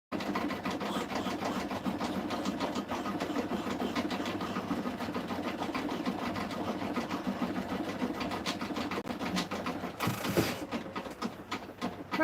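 An embroidery machine stitches out a design in rapid, steady needle strokes, a close, continuous mechanical chatter with a brief rise near the end and no talk.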